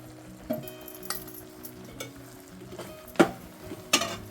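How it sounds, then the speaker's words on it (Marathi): Rice flour, grated coconut and jaggery being stirred together in a pan, giving a few scattered scrapes and soft clinks of the spoon against the metal over a faint background, with no talk. "चांगलाच हलवत राहायचं नाही."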